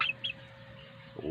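Several chickens, one of a flock of seven kept on a rooftop food garden, give a couple of short clucks up close, then fall quiet over a steady low background hum.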